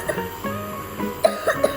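A sick young boy coughs in several short, close bursts, with small gaps between the coughs.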